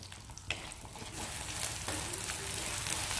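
Whole peeled small shallots and curry leaves sauté in hot oil for a spicy pepper kuzhambu, giving a steady close sizzle with light stirring scrapes, a little louder after the first second, with no talk.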